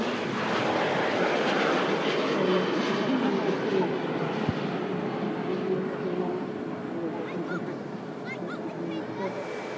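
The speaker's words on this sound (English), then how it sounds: "737-700 on the way back out to Amsterdam" Boeing 737-700 jet departing Manchester Airport for Amsterdam, its engines a loud, steady broadband roar that holds throughout and eases slightly toward the end, with people talking underneath.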